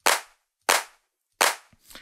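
Three sharp, bright clap hits from the default kit of an SDS-X drum sampler pad, evenly spaced and played alone, each decaying quickly, followed by a fainter softer transient at the end.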